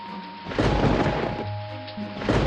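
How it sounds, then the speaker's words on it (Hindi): A strong storm with heavy wind and rain roars steadily and loudly throughout, with deep rumbling swells that suggest thunder. "एक दिन जोर से हवा और बारिश आती है।"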